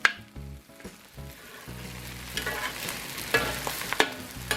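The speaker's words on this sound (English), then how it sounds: "let me get it stir fried around a little bit more" Bacon and egg fried rice sizzles and crackles as it is stir-fried on a BBQ, with scraping spatula strokes and clinks rising and falling over a steady frying hiss, close and moderately loud.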